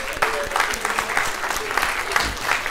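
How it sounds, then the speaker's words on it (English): A school audience at Abertillery Learning Community applauds a volunteer during a motivational speech, a steady wash of many hands clapping at moderate distance, with scattered voices beneath. "Give him a round of applause,"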